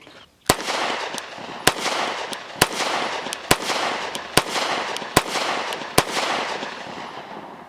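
Walther PDP F-Series pistol fired at an outdoor range: about nine sharp, loud gunshots at uneven intervals over roughly seven seconds, each a crisp crack with a short ringing decay, with no talking.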